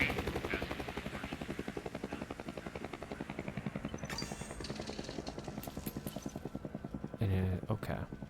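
A helicopter in the video game Hell is Us thuds with a fast, steady rotor chop that runs throughout, with a few sharper bursts and clatters near the end.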